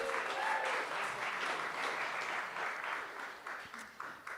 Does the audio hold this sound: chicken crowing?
no